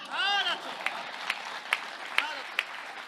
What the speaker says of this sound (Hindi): ये उन लोगों ने तालियां बजाई है